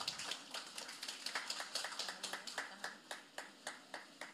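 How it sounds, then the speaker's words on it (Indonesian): A small group claps quickly and unevenly, the sharp hand claps close and steady throughout before stopping. "Boleh kita berikan tepuk tangan sekali lagi."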